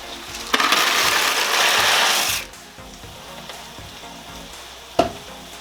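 Rotini pasta tumbles into a pot of boiling water, giving a loud rushing sizzle for about two seconds, then a steady low bubbling with one sharp knock near the end.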